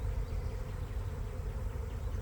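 A honeybee swarm flies in at lunchtime, a dense, steady buzzing hum of many bees that holds without a break, fairly quiet.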